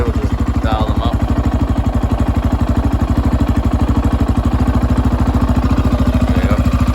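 A 2001 Yamaha Raptor 660R ATV engine idles at low RPM, a loud, steady, close thumping pulse with fast even beats throughout, with brief faint sounds in the background.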